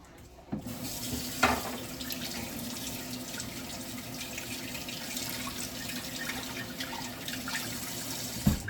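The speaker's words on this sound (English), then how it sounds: "I'm going to wash this onion now" Tap water runs steadily into a sink while an onion is washed under it, a close continuous splashing rush with a few brief knocks as the onion is handled.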